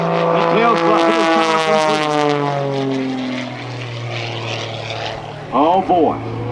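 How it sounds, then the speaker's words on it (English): A propeller aerobatic airplane's engine roars back to power during a tail slide routine at an airshow, a loud sustained drone with rising and falling pitch that swells, fades somewhat, then surges again near the end, with faint announcer talk underneath. "Now, the Thunderbolt engine comes back to life."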